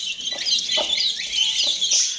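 A hen gives soft repeated clucks to call her chicks, several short calls spread across the moment over a steady bed of chirping and background chatter from other birds nearby.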